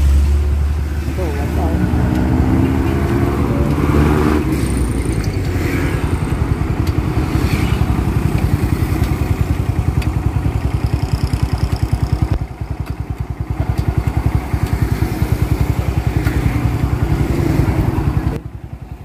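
A motorcycle engine, a Barako converted to a 6-speed transmission with a carburetor, runs steadily and loudly on a test for the whole stretch, with a brief dip in level partway through.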